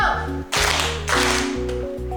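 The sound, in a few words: class clapping the 'tepuk 1' clap pattern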